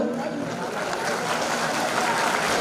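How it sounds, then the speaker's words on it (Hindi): Applause for a woman invited onto the stage at a national farmers' forum convention, a steady dense wash of clapping filling the whole moment with no break. "जोरदार तालियां हो जाए मैम के लिए"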